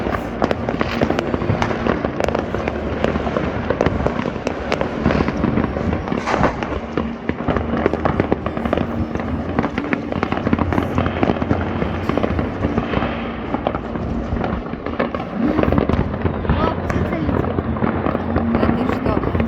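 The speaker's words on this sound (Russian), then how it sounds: "Вот какой салют." New Year fireworks display over Adler seen from a height, a dense continuous crackle of bursts and pops, distant but loud, sustained for the whole stretch with occasional voices talking underneath.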